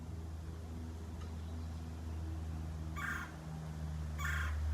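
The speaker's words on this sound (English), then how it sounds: "hear a bird" Outdoors, a bird gives two short, bright chirping bursts amid a low background hum, faint to moderate and separated by about a second.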